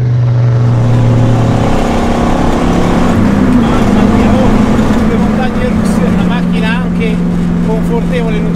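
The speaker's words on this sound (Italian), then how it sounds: "per il suono che esce da questo scarico qua dietro" Engine of a red sports car rumbling and revving through its rear exhaust, a steady loud close drone with pitch shifts as revs rise and fall; someone talks over it.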